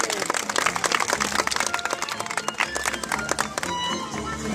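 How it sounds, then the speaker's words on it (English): An audience at a sea lion show claps in a dense, steady patter of many hands, with a voice speaking over the applause. "Big clap on the last one."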